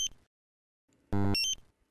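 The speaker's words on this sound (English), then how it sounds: "The A1 alarm sounds if the concentration is higher than normal but doesn't yet constitute an acute hazard" A Draeger X-am 2500 gas detector sounding its A1 alarm: a short electronic beep, then after a pause a louder, longer burst of rapid tonal beeps, close and clear against silence.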